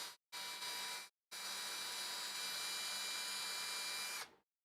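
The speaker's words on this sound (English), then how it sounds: "And all we're going to do is just drill through them" A power drill whines at high speed through bolt holes in epoxy-coated kit plates, starting with two brief bursts and then one sustained run of about three seconds, close and loud, with no talking.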